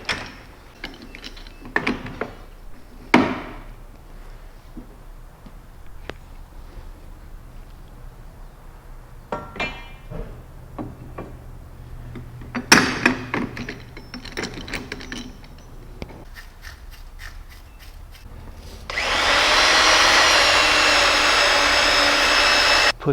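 Honing the bore of a downhole rod pump barrel: scattered metallic clunks and clicks as the barrel is flipped and set up, then a steady loud whirring hone running continuously near the end.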